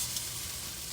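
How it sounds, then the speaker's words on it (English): Butter browns in a skillet with a steady, soft sizzle that stays even and fairly quiet throughout, with no voices over it. "So yeah, that butter browns up, but it's okay."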